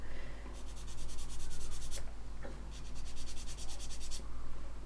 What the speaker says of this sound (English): just sand that down again until the shine is gone across the entire area